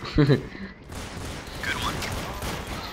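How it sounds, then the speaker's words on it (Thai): Rapid bursts of gunfire in Counter-Strike: Source crackle over a dense battle din against bots, loud and continuous, with a short voiced sound near the start. "โอ้เสียงปืนดังจัง รู้สึกเสียงปืนดังมากนะ"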